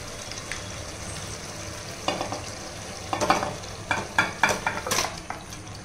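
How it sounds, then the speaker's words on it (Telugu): Marinated chicken for a chicken korma goes into hot oil in a pan, sending up bursts of sizzling and frying as it is stirred, growing louder and more active after a quieter start. "సో ఇప్పుడు మనము మ్యారినేట్ చేసి పెట్టుకున్న చికెన్ వేసుకుందాం."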